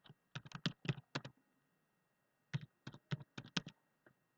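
Typing on a computer keyboard while entering a spreadsheet formula: two quick bursts of crisp, close key clicks separated by a short silent pause, with no talking.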